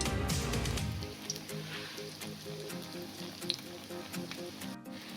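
Pakoras sizzling in hot oil in a wok, a steady crackling fry that starts loud and settles into a continuous bubbling hiss, no voices.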